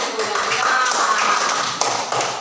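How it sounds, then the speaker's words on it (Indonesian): Pupils in a classroom during a fractions lesson clap together, a short, close burst of dense, busy clapping that holds steady for a couple of seconds with a few sharper taps. "tepuk tangan"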